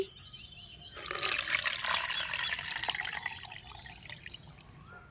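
Liquid plant fertilizer trickles and splashes steadily through a filter for several seconds, a soft continuous pouring sound close by with no talking.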